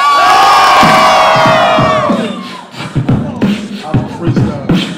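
A loud crowd cheers and hollers for a freestyle rap, high shouts and whoops swelling at first, then breaking into scattered yells and chatter.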